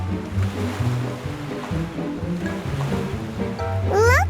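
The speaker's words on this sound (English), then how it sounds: "That's why the waves are so wild." Wild cartoon sea waves surge and crash steadily in loud, continuous rolling surf, with a rising whistling tone at the very end.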